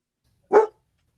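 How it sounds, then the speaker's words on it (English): A single short, close bark from a dog indoors, one sharp burst standing alone in an otherwise silent room. "This is a bad time for your dog to go crazy."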